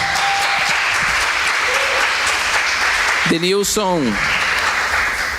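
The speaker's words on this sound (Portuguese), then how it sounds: "vamos aplaudir o Senhor" Church congregation applauding during a Portuguese-language testimony service, loud continuous clapping from many people throughout, with a short burst of voices or cheering rising over it near the middle.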